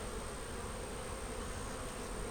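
Honey bees buzz steadily around an opened backyard hive, a dense, continuous drone close to the listener with no talk over it.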